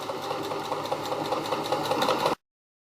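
A sewing machine runs steadily while freehand quilting on fabric, a fast, even mechanical whir with needle clatter, close and continuous for about two seconds before stopping abruptly.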